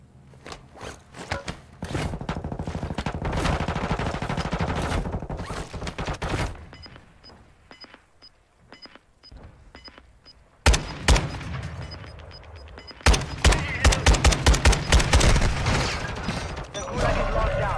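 Video game gunfire in the Call of Duty gulag, rapid bursts of automatic fire and single shots, loud and dense at first, a quieter stretch, then renewed volleys with scattered voices mixed in.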